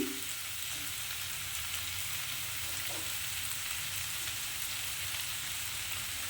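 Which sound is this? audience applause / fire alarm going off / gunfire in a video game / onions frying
onions frying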